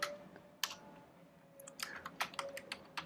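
Quiet, irregular computer keyboard typing while coding in Xcode, scattered light key clicks in short bursts, close and alone with no talking.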